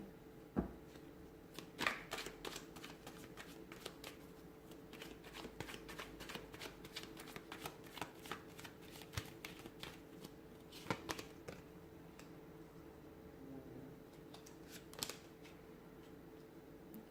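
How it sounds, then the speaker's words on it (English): Continuous tarot card shuffling, a dense run of quick riffling clicks and snaps lasting the whole stretch, close and moderately quiet with no talking. "give the cards a shuffle"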